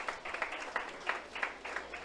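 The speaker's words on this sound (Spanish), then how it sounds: "Dele un aplauso al Señor." A church congregation claps in a brief burst of applause, several uneven waves of handclaps at moderate distance, filling the hall for about two seconds.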